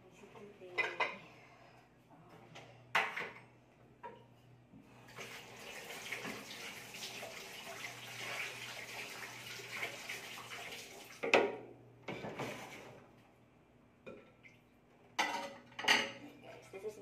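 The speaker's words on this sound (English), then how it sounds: "My most favorite part of the chores, washing the dishes." Dishes, pots and cutlery clatter and clink in a household sink under steady running tap water, with louder knocks of crockery at intervals over a continuous wash of water, close by.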